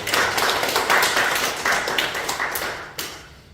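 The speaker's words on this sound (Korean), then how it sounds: "우리 박수로 감사 마음 드립니다" A church congregation claps in a steady, moderately loud patter for a few seconds, gradually tapering off, with no voices over it.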